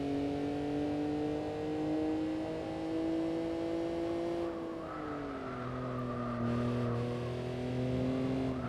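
A car engine in Gran Turismo 4 Spec II holds a steady high-pitched drone, dipping briefly mid-clip as the car slides through a corner under a brake tap, then climbs again, loud and continuous with no talk.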